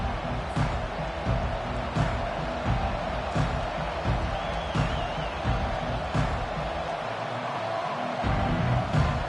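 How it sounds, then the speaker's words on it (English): A stadium crowd at a college football game involving the Nebraska Huskers roars loudly and steadily at kickoff, a broad sustained din with occasional thumps underneath. "This crowd bringing an ear-splitting welcome to their visitors."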